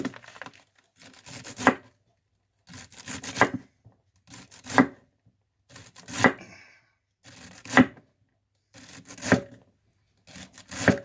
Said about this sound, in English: Just chop it right off the stalk. Leaves and all.